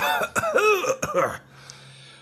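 A few harsh coughs break out close up in a short cluster, mixed with a voiced, laugh-like rasp before fading into quiet.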